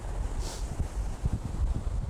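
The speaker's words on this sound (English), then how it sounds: "Trying to cover the mic with my hand the best I can." Strong, very cold winter wind at Lake Michigan buffeting a microphone partly covered by a hand, a constant low roaring rumble with gusty thumps, loud and close, no voices.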